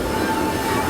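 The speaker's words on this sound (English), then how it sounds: "Oh, that's a train going over above us." Train on the elevated track at Disneyland rumbling overhead, a steady continuous roar with a faint high tonal whine, filling the whole short moment without talk.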